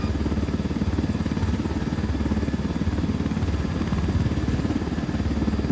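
Military helicopters in the shooter Ghost Recon Wildlands: steady, loud, rhythmic rotor thumping with engine drone, continuous throughout and close, with no voices.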